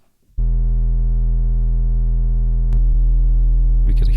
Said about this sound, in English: Let's see it on a sine wave.